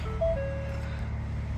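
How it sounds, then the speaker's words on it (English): A Ford Focus ST Estate automatic starts up, giving a brief two-note electronic chime over a steady low engine and cabin hum. "Getting into the car, little start."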